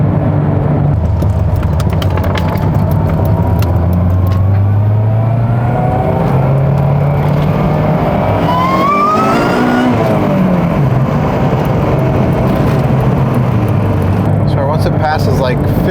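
A boosted Ford Falcon FG2 accelerating hard on a straight, its loud engine note climbing through the revs and dropping at a gear change, with a person speaking over the cabin noise.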